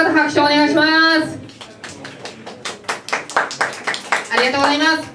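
Audience clapping at a beatbox battle event in Miyagi, Japan, as a string of sharp, scattered claps between stretches of a loud speaking voice.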